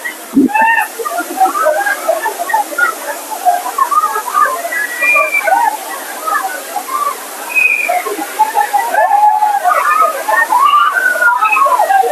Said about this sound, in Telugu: భీముని జలపాతం అంటే నిజంగా భీముని జలపాతం లాగానే చాలా సూపర్ గా ఉంది